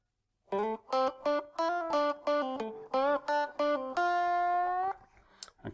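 Lead guitar plays the solo section of a song, a run of short, clean picked notes with slides and a final sustained note, loud and alone with no talking.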